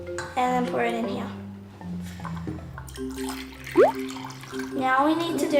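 Water from a cup is poured into a container while making slime at home, a brief liquid splash mostly buried under steady children's and adult talk close to the mic.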